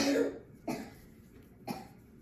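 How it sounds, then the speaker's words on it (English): A child coughs three times, the first a longer rough burst, then two short single coughs about a second apart, fairly close with no talking. "you'll have to excuse my son, he is sick, so he'll be coughing off and on in the background"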